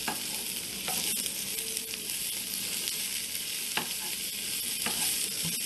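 Onions sauteing in a pan while being cooked for spicy tofu with daikon radish kimchi, a steady close sizzle running throughout with a few brief stirring scrapes and clicks.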